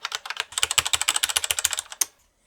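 Fast, steady typing on a mechanical keyboard with TTC silent switches: a dense run of soft, muted keystrokes heard close up with no voices, ending in a last key press and then quiet.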